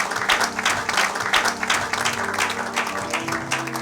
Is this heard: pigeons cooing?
no